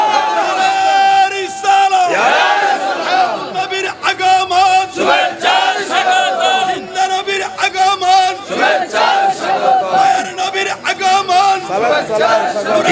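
A large crowd at a religious gathering roars the takbir, Allahu Akbar, in loud, sustained, repeated chanted shouts that swell and overlap.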